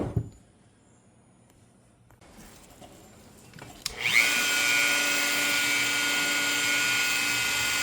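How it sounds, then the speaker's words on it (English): A Dremel rotary tool polishes an SU carburetor manifold. After a few seconds of quiet it spins up into a loud, steady high-pitched whine that holds to the end. "let's finish up with the Dremel and get through these little cracks"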